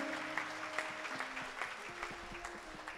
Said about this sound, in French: Que quelqu'un acclame de joie